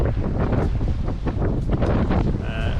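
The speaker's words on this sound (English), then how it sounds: "with a wind 4 gusting 5, you have a nice sail" Strong wind gusting over a sailing boat on choppy water, with the main and genoa reefed, rushing continuously and buffeting the microphone in loud, heavy bursts.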